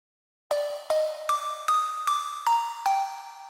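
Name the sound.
bell layer in a song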